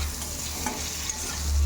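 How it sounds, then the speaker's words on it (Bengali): Pointed gourd (potol) frying in oil, heard as a short burst of close sizzling with a stirring scrape partway through that swells slightly at the end. "এই পটল ভাজাটা আর একটু ভালো করে ভাজতে হবে"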